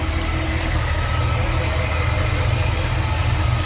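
A 1963 Chevrolet Bel Air's 350 V8 with a four-barrel carb, Edelbrock intake and HEI ignition idles steadily, a deep, even low rumble held close and constant throughout.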